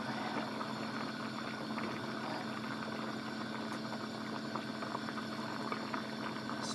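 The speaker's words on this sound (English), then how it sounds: "my cream boiling over." Cream boiling over in a pot on the stove, a steady, close bubbling and hissing with a constant frothy rush and no talk.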